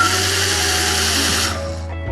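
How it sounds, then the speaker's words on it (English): A power drill spins a threaded insert at high speed, giving a loud, steady whirring whine for almost two seconds before it abruptly winds down and stops. "I can actually just spin this drill super fast"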